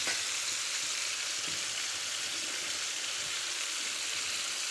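Potatoes frying in a pan at home, giving a steady, even crackling sizzle throughout with soft stirring and no talk.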